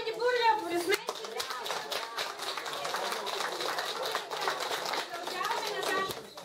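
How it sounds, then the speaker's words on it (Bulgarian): Clapping and applause at a children's certificate ceremony, a steady patter of many hands running for several seconds under children's voices and adult speech. "Хайде, бурля, аплодисменти!"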